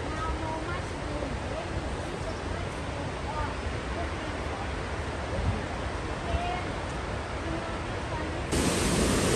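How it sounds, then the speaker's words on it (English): A waterfall in Doi Inthanon National Park, Thailand, roars as a dense, constant wash of sound that swells noticeably louder and brighter in the final second. "Here is the waterfall"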